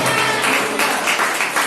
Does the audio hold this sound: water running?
no